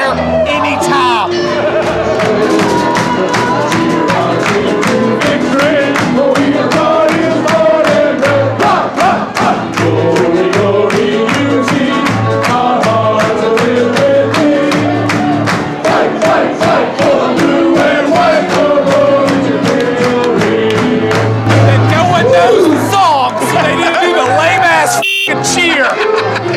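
A large crowd chants a 'Tar Heels' school cheer in a loud, rhythmic, repeated pattern, voices pulsing in steady beats with shouts mixed in, filling the space throughout.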